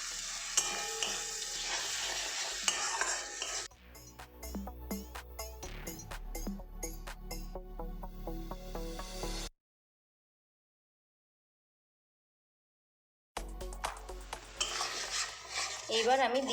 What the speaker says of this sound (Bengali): জল দিয়ে মশলাগুলো কষিয়ে নেব।